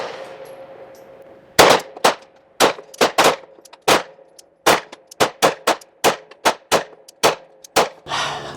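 Pistol shots from a Glock 17 Gen 5 MOS fired with factory plastic iron sights, around twenty sharp, loud reports in uneven quick strings at an outdoor range, each followed by a short ringing decay.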